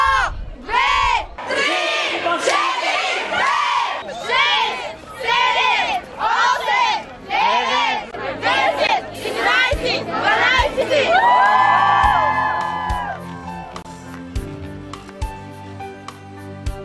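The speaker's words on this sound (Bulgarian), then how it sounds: "аплодисменти за Стоил Мирчев" A crowd at a graduation ball shouts and cheers in loud bursts of excited voices for several seconds, then the noise gives way to music with rising tones as the yelling fades.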